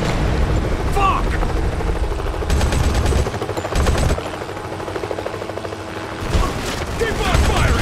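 Gunfire from a PC battle video game comes as dense, loud bursts of automatic fire and explosions, continuous over a rumbling background.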